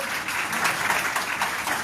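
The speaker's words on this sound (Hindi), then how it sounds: "आप सभी जोरदार तालियों से उनका स्वागत करें, अभिनंदन करें।" An audience at a Haryana press club event welcoming a guest with sustained, dense applause, a steady full wash of many hands clapping close by.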